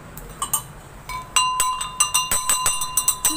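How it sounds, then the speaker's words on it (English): A temple bell struck repeatedly in a Hindu family deity shrine, a run of bright metallic clangs in quick, slightly uneven rhythm, close and fairly loud over quiet surroundings. "Like how we have for Tiridhana Bhagavati, for her sake we will ring the bell."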